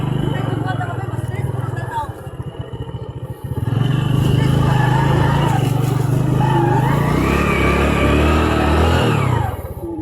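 A motorcycle engine runs close by, idling roughly, then revving up into a loud steady drone that rises in pitch before easing off, with people talking over it.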